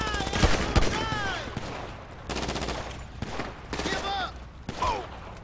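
Rapid bursts of gunfire from Grand Theft Auto 5 on PC, loud repeated volleys and machine-gun rattles in several clusters, with a voice speaking under the shooting.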